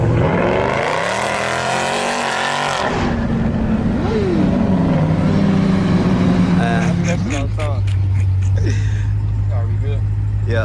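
Brand new 2023 Dodge Durango Hellcat, loud engine roar building and shifting through revs, then a deep steady drone with ticking and clicks, heard close throughout with no talk.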